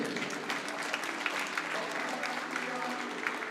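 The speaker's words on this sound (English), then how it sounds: "Give yourselves a round of applause" Crowd applause fills an event hall at a cancer benefit night during a Watertown Lakers boys varsity game against the Mitchell Marlins, a steady dense patter of many hands held at even volume throughout.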